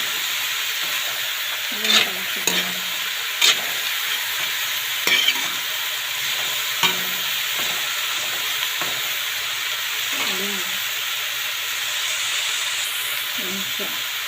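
Bean sprouts fry in a pan with a loud, steady sizzle and hiss of steam. A utensil stirs them, scraping and clinking against the pan several times at irregular moments. No one speaks.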